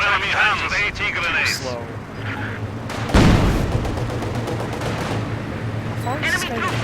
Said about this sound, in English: Enemy firing on us!